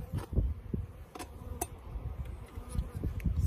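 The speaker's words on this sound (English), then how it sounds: "there's a bee that just wants to play in my hair for some reason" Honey bee buzzing close around a beekeeper's head at an open hive, a steady near drone that rises and falls as it circles, with soft rustling beneath.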